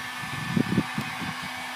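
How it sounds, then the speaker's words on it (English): Heat gun blowing on freshly installed hash stripe tape, a steady, moderate whooshing airflow hum with faint low handling bumps partway through. "we have the heat gun applied to it"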